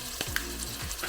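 Garlic and ginger paste fries in a pan with onions and peppers, a continuous sizzle broken by a few short scraping stirs of the spoon.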